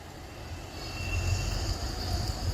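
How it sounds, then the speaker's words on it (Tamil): A Hyderabad metro train rolls past near a bus stand, a steady low rumble of wheels and motors with a faint high whine, holding fairly constant and alone without voices. "மெட்ரோ ட்ரெயின் போயிட்டு இருக்கு பாருங்க."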